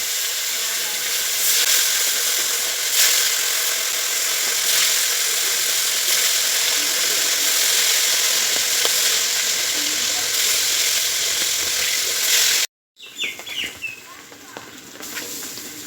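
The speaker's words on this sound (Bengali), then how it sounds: "বাকি মাছগুলো ভেজে নিচ্ছি" Pieces of katla fish fry in hot oil, a loud continuous sizzle and hiss that runs steadily, stops abruptly, then returns as a quieter, more broken crackle with faint voices in the background.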